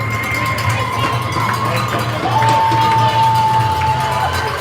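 Junior hockey fans in jerseys cheer at a semifinal game in Quebec, a steady roar of crowd noise with whistle-like tones and scattered shouts filling the arena.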